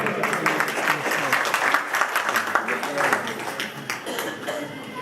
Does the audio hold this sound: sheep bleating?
no